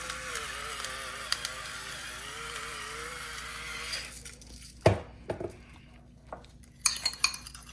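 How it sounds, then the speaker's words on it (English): Caviar chip dip being stirred with black pepper in a bowl, a hum of background noise first, then scattered clinks and scrapes of a utensil against the bowl, close and fairly quiet. "Give that a good mix."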